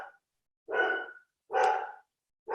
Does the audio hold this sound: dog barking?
yes